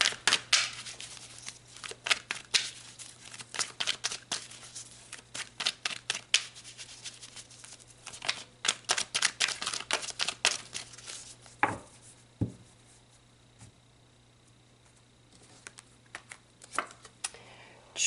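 Tarot cards being shuffled and pulled, with many crisp, rapid riffling and slapping clicks in bursts, close and fairly quiet, easing into sparser taps and near-silence toward the end.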